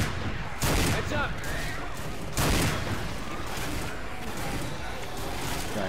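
Shotgun blasts in the video game Left 4 Dead 2, two loud broad bursts a couple of seconds apart amid dense, noisy game chaos and a talking voice.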